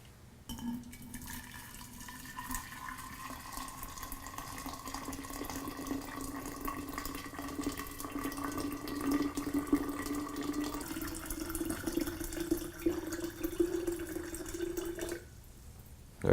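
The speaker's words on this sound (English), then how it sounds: "we've poured our 2 liters of boiling hot water into our brewing vessel" Boiling hot water, two liters, pours steadily into a four-litre kombucha brewing vessel, a continuous close splashing stream with a rising fill tone that cuts off abruptly near the end.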